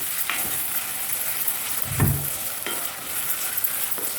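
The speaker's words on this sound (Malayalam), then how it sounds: "ചെറിയ ഉള്ളി അരിഞ്ഞ് വെച്ചിരിക്കുന്നത് ഇട്ട് കൊടുത്ത് വഴറ്റിയെടുക്കാം. ഉള്ളി നമുക്ക് ഇളക്കി കൊടുക്കാം" Chopped shallots stirred and sautéed in a pan for a Kerala-style beef fry: a constant close hiss of frying with a few scraping strokes of a spoon, no voices.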